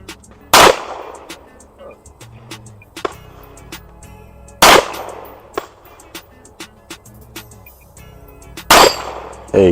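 Handgun shots ring out at a shooting practice, three sharp loud cracks spaced a few seconds apart, with quieter clicks and handling noises between them.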